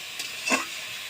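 Leafy greens fry with garlic and green chili in a pan, giving a soft sizzling hiss broken by a couple of brief stirring swells, heard close and without speech.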